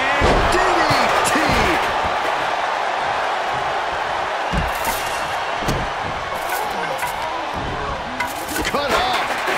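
A DDT wrestling slam in the WWE 2K24 video game during a Raw multi-man match, with a heavy mat impact amid a loud, roaring arena crowd and a commentator talking over the action.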